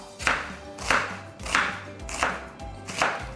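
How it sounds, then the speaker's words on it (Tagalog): A knife slices half a white onion into strips on a board, five firm, evenly spaced chopping strokes landing about every 0.6 seconds, close and crisp, with no voices. "And also I have here my onions, white onions. I'm using 1/2. Parang strips din ang ating paghiwa."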